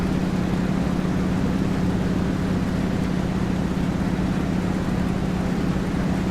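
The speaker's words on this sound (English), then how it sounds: "Hear that Rolls Royce engine." Rolls Royce aircraft engine of an A2A T-6 Texan in a Prepar3D flight simulator: a continuous, even engine drone with a strong low hum, steady and unchanging throughout, with no talk over it.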